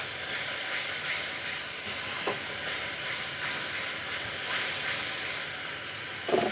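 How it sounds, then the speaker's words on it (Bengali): Spice paste fries in oil in a pan, giving a continuous close hiss and sizzle with occasional soft stirring scrapes, steady and moderately loud, with no voices. "মশলা খুব ভালো করে কষিয়ে নেব"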